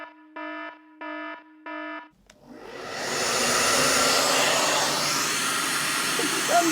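A handheld hair dryer starts up after three short electronic beeps and blows loud and steady close by, drying hair straight while it is brushed.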